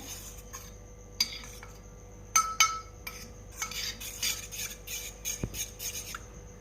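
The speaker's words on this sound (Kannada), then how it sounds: "ನಾನು ಹಾಲನ್ನು ಮಿಕ್ಸ್ ಮಾಡ್ತಾ ಇದ್ದೀನಿ" A spoon stirring milk into ragi malt in a vessel, repeated light metallic clinks and scrapes in bursts, growing into faster continuous stirring, quiet and close with no speech.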